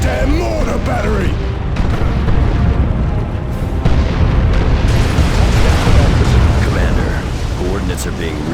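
Mortar artillery in the Warhammer 40,000 game Dawn of War II Chaos Rising pounds away in dense, overlapping booms and blasts, loud and continuous, with battle noise and voices mixed through the barrage.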